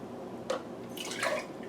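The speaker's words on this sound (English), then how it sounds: "Add a little bit of water." Water is poured into potatoes packed in canning jars, giving soft, close splashes and trickles in two short bursts under quiet room tone.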